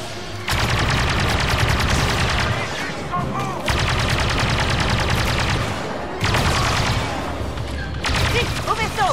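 Blaster fire in Star Wars Battlefront II during the Battle of Jakku, rapid repeated shots in long loud bursts with brief pauses between them, over a roaring battle background with voices mixed in.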